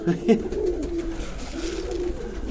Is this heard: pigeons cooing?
yes